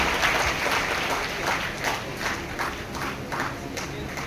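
Group clapping in a steady rhythmic beat, loud and close, repeating evenly through the moment with a busy crowd background.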